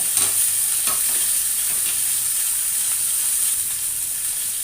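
Fried fish being lifted out of hot oil in a pan, with a steady, close sizzling and bubbling hiss that runs without a break.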